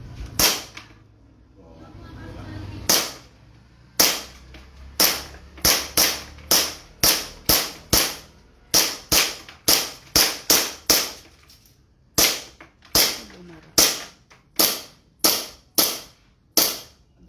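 Rapid airsoft pistol shots, a 7.0 Infinity AWC, fired indoors: about twenty sharp cracks in quick bursts, some nearly back-to-back, loud and close, with faint low chatter beforehand.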